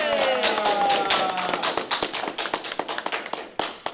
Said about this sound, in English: Let's clap as loud as we can so we can test this out.